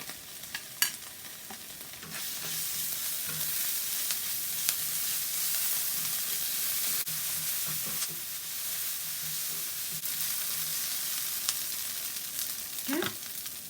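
Onion and ginger garlic paste sizzle and fry in a pan, a steady soft hiss with intermittent stirring scrapes and a few clinks of a utensil, close by.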